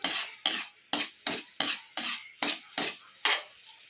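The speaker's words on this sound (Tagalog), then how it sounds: "ilalagay natin yung sili at bawang, garlic and chili." Garlic and chili fry in a pan while being stirred in a steady rhythm, eight evenly spaced scraping strokes each followed by a brief sizzling hiss, close and fairly loud.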